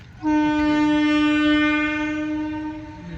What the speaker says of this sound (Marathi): ट्रेन आली. इथं रेल्वे स्टेशन आहे.